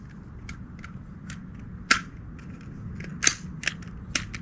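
AR-15 rifles are fired outdoors at night in a string of sharp cracks, roughly ten shots spaced irregularly, with several louder reports standing out over a low background rumble.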